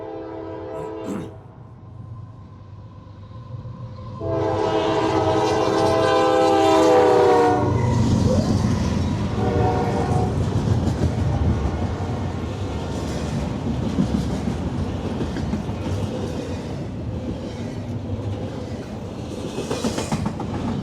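A CSX freight train on the Henderson Subdivision near Mortons Gap, Kentucky, sounds a loud, long horn, then rumbles and clatters past close by with steady wheel noise. No one speaks.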